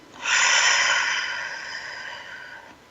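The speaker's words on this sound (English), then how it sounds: "One more deep breath." A single deep breath is drawn in audibly, a close, breathy airflow sound that swells quickly and then slowly tapers over a few seconds, with no talking.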